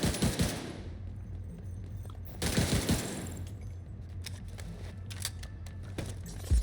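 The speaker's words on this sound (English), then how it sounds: "sometimes you just gotta remind yourself it is 420 rounds per minute" An LMG in The Division 2 fires at 420 rounds per minute in quick bursts of steady, evenly spaced shots, with a short pause between volleys and faint game background, no voices.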